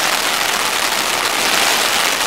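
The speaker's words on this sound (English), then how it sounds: "there's a big downpour of rain" Heavy downpour of rain in rural Brazil near paddy fields, a steady dense roar of drops on surfaces, close and loud throughout with no break or voices.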